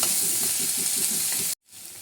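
Onions sautéing in a pan for upma give a steady, loud sizzle with faint stirring underneath, then the sizzle cuts off abruptly and returns more quietly.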